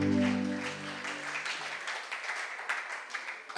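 A church congregation applauds with a broad wash of clapping that continues throughout, preceded at the start by a sustained musical tone fading away.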